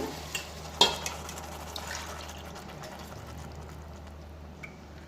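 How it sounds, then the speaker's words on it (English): Water poured into a cooking pot for oats vegetable pulao, a soft liquid fill with a sharp clank near the start and a few light knocks, fairly close and alone. "so I add 4 cups of water"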